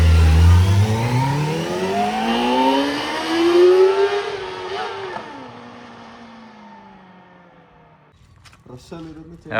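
A new Kawasaki mini bike engine revs hard, climbing in pitch and then winding down as it pulls away, loud and close before fading, with a brief clatter near the end.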